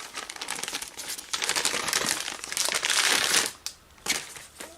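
Wrapping paper crinkles and tears as a Christmas advent-style gift box is opened, bursts of loud close crumpling and rustling with brief pauses, no talking.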